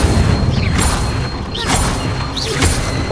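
Incendio fire spell cast in the video game Hogwarts Legacy, a series of booming, crackling bursts at steady volume over low rumbling background, with several flashes of sound spread across the short span.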